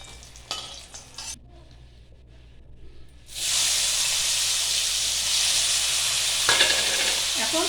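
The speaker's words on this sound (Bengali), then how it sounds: "এই তেলের মধ্যে শুকনো মাছটাকে একটুখানি নাড়াচাড়া করে নেবো" Dried fish stirred in hot oil, giving a loud continuous sizzle that rises after a quieter stretch with a few scraping clicks and carries steadily to the end.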